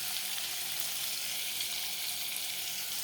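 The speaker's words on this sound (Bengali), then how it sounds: "ভালো করে ভালো ভাজা হয়ে না কিন্তু পেঁয়াজটা লাল লাল হবে, ব্রাউন কালার হবে" Onions fry in a pan until browned, a steady, even sizzle close up with no voices.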